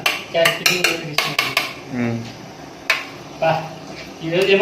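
Chicken being stirred in a pan with a metal utensil, giving a run of quick clinking scrapes followed by sparser knocks, with a voice talking throughout.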